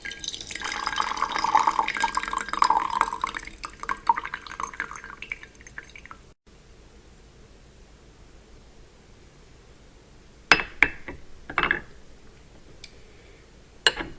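Green tea infusion poured off from a small vessel, a steady close trickle of liquid for several seconds that stops, followed by a few quiet drips and light clinks.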